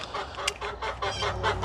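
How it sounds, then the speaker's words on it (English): Chickens in a coop cluck steadily while scratching around, a continuous overlapping chorus of short calls close by with no talking. "so the chickens are in here scratching around"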